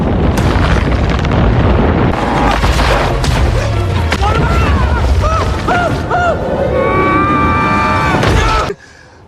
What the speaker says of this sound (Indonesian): Pikachu mendapat ide untuk membiarkan Psyduck meledak, dan Psyduck pun meledak